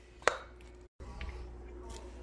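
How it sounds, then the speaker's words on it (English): A knife slicing avocados into cubes, one sharp close tap against the board followed by softer scraping and light knocks. "I'll usually just slice them up like this a bit, get them into nice big cubes"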